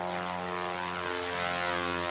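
A small light aircraft in a landing and take-off competition climbs away, its propeller engine droning steadily and loud throughout with a rich harmonic hum.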